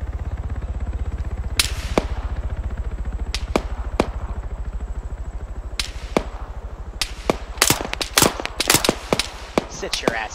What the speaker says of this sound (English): Some machine gun's firing.